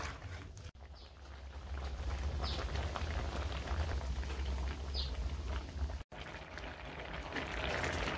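A pot of food boils with a little salt added in a village kitchen, giving a continuous low rumbling bubble at moderate distance that drops out twice for an instant, with no talking.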